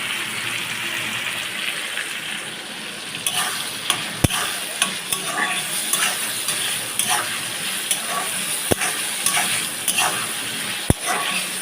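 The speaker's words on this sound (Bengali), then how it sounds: "ভেজিসগুলো ভেজে নিচ্ছি" Vegetables frying in a pan give a continuous sizzle with stirring scrapes and a few sharp utensil clicks against the pan, moderately loud and close, with no voices.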